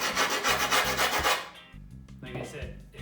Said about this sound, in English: this is where the file comes in handy. You can use the screwdriver also. All you're gonna do is score the edges.